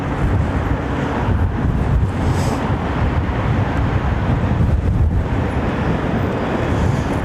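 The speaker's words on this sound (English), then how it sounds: "Southwesterly wind, 220 degrees at 14 knots." Gusty southwesterly wind of about 14 knots at London Heathrow Airport, a loud, continuous broadband rush buffeting the microphone with no voices present.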